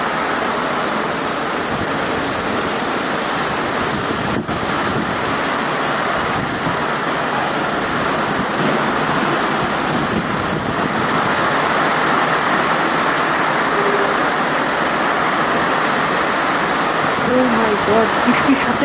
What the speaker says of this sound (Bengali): প্রচুর বৃষ্টি প্রচুর বৃষ্টি একদম ঝড় বৃষ্টি